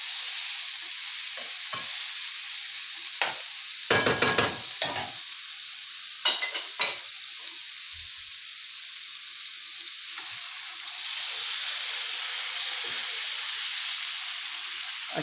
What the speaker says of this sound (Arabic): في الوقت ده هنحط لها الميه.